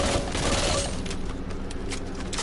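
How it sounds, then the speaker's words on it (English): An Uzi submachine gun firing in Back 4 Blood, a fast continuous burst of shots, loud and close for the full two and a half seconds with no talking. "There is a little bit of a delay between when the Uzi actually fires around and when you pull the trigger."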